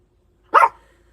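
A single short, loud bark from a dog nearby, sharp and abrupt against an otherwise quiet background.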